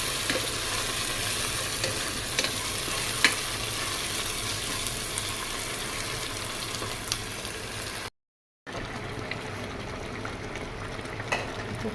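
Ginger garlic paste goes into reddish fried onions for a mutton korma, raising a steady, dense sizzle that carries on loud and close with faint stirring, briefly cut off near the end.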